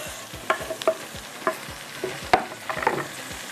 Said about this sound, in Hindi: थोड़े से आलू फ्राई हो गए।